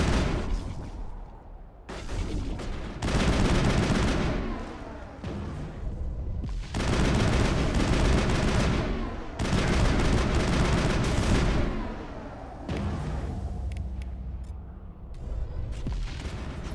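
Sustained gunfire in the game Mass Effect, loud waves of rapid automatic shots and booming impacts that surge and ease in repeated bursts, close and dense, with no voices.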